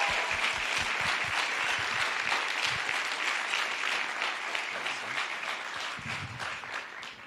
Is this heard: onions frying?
no